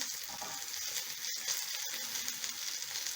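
Fish frying in a pan, a steady bright crackling sizzle with faint popping, continuous and close, with no voices.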